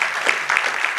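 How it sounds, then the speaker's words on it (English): Audience applause for Clayton at an oral presentation event, a short steady burst of clapping from a seated crowd, fairly close and continuous without any voices over it. "Let's give Clayton a big round of applause."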